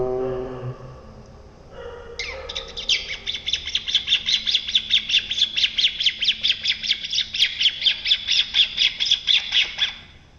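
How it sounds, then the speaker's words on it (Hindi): Birds chirp and squawk in a lush green setting, a rapid repeated run of bright, loud calls after a brief softer opening, continuing steadily with no voices. "पक्षियों की चहचहाट"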